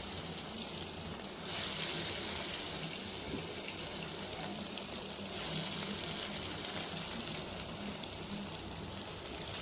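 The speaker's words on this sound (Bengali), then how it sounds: "তো কড়াইয়ে তেল গরম হয়ে গেছে, এবার আমি মাছগুলোকে ভেজে নেব।" Rohu fish frying in hot oil in a wok over a wood-fired clay stove, a steady loud hiss and crackle running continuously with slight swells, no talking over it.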